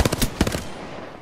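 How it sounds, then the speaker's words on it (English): Rapid bursts of automatic gunfire from enemies in the Apex Legends video game, several sharp close shots in the first half-second that fade into a decaying tail. "The enemies are shooting at me."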